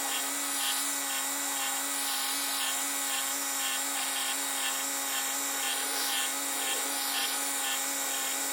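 Under the hood of a 2008-2012 Ford Escape V6 3.0L, the AC compressor runs with a steady tonal whine and hum, its level pulsing slightly and regularly throughout.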